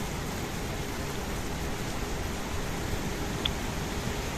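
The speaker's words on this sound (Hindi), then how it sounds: "बारिश और तेज और पानी और अपने उफान पर।" Heavy rain pours over a swollen, rushing mountain stream in a Himachal hill gorge, a steady, dense broadband roar that holds evenly throughout with no voices.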